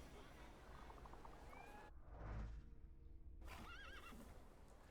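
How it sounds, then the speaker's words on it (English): A horse whinnies once in the video game The Thaumaturge, a loud, close neigh over steady ambient game noise, with faint hoof clops around it. "I meant to take the horse out for a ride"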